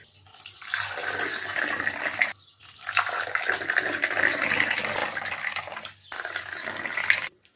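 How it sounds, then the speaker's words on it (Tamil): Sweetened tender coconut water poured into ice pop moulds, a steady close splashing pour with two brief pauses as the stream moves between moulds, heard alone without talk. "இப்போ இதை குச்சி ஐஸ் மோல்டில் ஊற்றிக்கலாம்"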